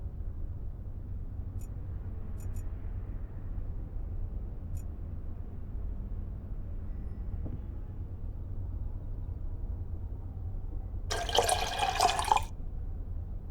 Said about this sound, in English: Now all I have to do is wash off the developer fluid using distilled water.